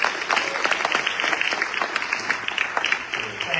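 A crowd at an outdoor national protest day event in Palm Springs, California, breaks into sustained applause, dense and fairly loud clapping that holds steady throughout, with no talk heard over it.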